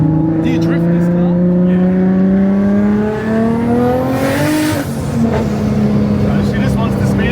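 Nissan Silvia S15 engine revs hard and loud, pitch climbing then easing as the wheels spin and scrabble for traction, with a steady roar throughout and people talking over it.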